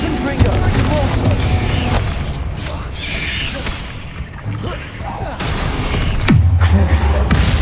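Spell blasts and booming impacts crash one after another in Hogwarts Legacy combat, loud and close, with mechanical clanks and a voice speaking over the fighting.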